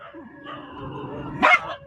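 Street dogs barking at a road junction, a short loud burst of barks partway through over background street noise and a voice.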